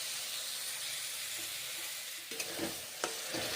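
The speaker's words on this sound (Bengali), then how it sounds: "এখন ভেজে নিচ্ছি, খুন্তি করে নেড়ে চেড়ে ভেজে নিচ্ছি" Ridge gourd and pointed gourd pieces fry in a pan, a constant close sizzle broken by a few scraping, clattering spatula strokes as they are stirred.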